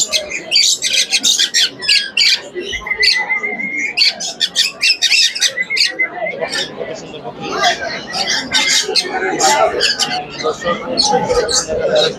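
A dense chorus of exotic birds at a national bird show and competition, squawks, chirps, whistles and coos crowding together nonstop and close by, while someone talks over them throughout.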